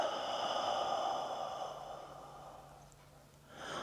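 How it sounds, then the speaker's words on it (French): A long, steady breath blown out through the mouth in a relaxation exercise sounds close and airy, then fades to quiet before a fresh breath starts at the end. "Vous faites rentrer de l'air par les narines et vous soufflez."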